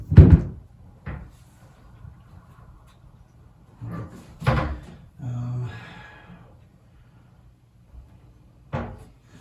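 A bathroom door is handled and fitted onto its hinges, giving several wooden knocks, thumps and a scraping shuffle at irregular intervals in a quiet room, with brief murmurs of talk.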